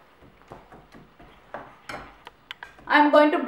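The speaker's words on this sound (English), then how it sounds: "Then mix all together." Soft clinks and scrapes of a utensil stirring chicken curry ingredients in a pot, close and quiet, ending in a brief burst of louder noise.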